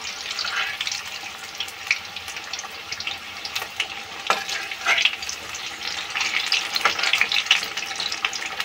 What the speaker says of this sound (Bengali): লো টু মিডিয়াম এতে ভাজবো বড়াগুলো।